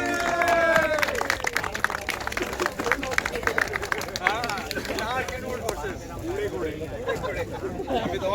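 Crowd at a cricket tournament award ceremony on an outdoor ground applauds the Dark Horses team, a sustained patter of clapping with cheering and overlapping chatter, fairly close.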